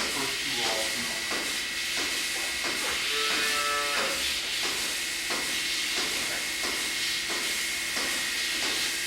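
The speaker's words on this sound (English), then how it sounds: "Here's where some of the cows are in the holding pen." Cattle mooing repeatedly in a holding pen at moderate distance, several drawn-out calls over a constant hiss of background noise.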